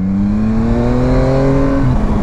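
Yamaha Tracer 900 GT three-cylinder motorcycle accelerating in second gear, a loud, steady engine note rising in pitch over about two seconds, then dipping briefly near the end.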